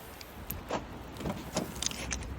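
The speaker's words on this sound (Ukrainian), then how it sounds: "Машинка закрита і відчиняємо з допомогою нашого ключика" Remote key unlocking a 2008 Toyota Camry, a few short clicks and clunks of door locks at close range over quiet background hiss, spaced across a couple of seconds.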